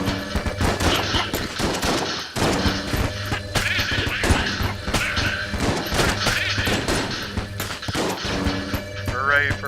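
Dense bursts of gunfire and flying bullets in the Enter the Gungeon video game crackle almost nonstop under background game music, with rapid overlapping shots and impacts.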